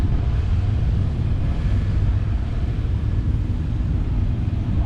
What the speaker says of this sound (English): Very unique design. Four-wheel drive tractor.